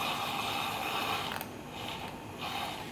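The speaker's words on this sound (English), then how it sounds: "Just gonna use my frother to mix these up" A handheld milk frother whirs steadily as it mixes French vanilla coffee, a close, continuous mechanical buzz that dips briefly in the middle and picks up again.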